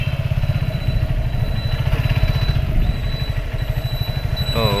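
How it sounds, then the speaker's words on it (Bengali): Motorbikes ride along a rough, damaged road in Khulna city, a steady close motorcycle engine chugging with rattling clatter, loud and continuous, with a faint rising engine whine near the end. "আবার আটটা বাইক আসছে"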